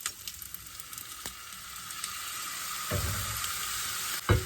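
Rice and soy sauce sizzle in a frying pan at a camper stove, a steady bright hiss with a few sharp clatters of a utensil stirring, close and continuous, no one talking.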